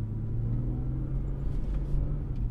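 A BMW M3 engine idles with a steady, deep, low rumble, even and close, with no voices.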